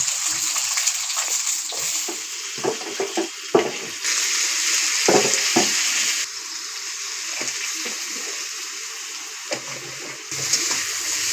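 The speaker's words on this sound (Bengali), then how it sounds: "কালো জিরে আর একটা চিরা কাঁচা লঙ্কা দিয়ে দিলাম। বিনস আলুগুলোকেও দিয়ে দিচ্ছি।" Cut beans and potatoes go into a hot pan with black cumin and a slit green chili, and a steady loud sizzle of frying follows, with intermittent clatter and stirring knocks over it.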